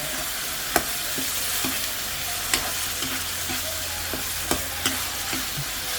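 Chili and garlic being stir-fried with a splash of water in a pan, a soft continuous sizzle broken by occasional clicks of the utensil against the pan, with no talking.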